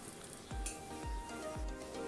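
Dried red chillies and bay leaves sizzle steadily in hot mustard oil left over from frying fish in a kadai, a continuous crackling hiss with a few soft stirring knocks, close and fairly quiet, no voices.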